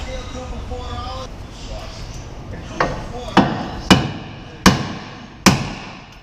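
Hammer blows strike an axle to drive it free from a suspension's lower mount, five sharp metallic hits in the second half, spaced roughly half a second to a second apart, close and loud, with a voice talking earlier.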